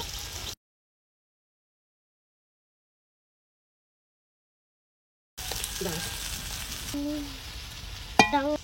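Street-style chicken chow mein is stirred and fried in a pan. A brief sizzle gives way to a long silent gap, then close stirring, scraping and sizzling return with a few spoken words and a sharp clink at the end.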